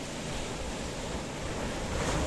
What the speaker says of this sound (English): the closeness as these waves kiss and lap on the coastline in downtown Paphos